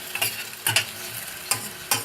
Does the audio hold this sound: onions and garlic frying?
yes